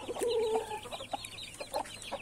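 A black hen and other chickens cluck in short, repeated calls at close range, with a brighter sustained call near the start and scattered softer clucks after, with no one speaking.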